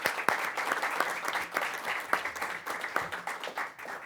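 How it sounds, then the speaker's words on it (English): An audience at a congressional briefing gives panelists applause, a moderate wash of many hands clapping with a few sharper individual claps standing out. "All right, well, let's give our panelists a huge round of applause."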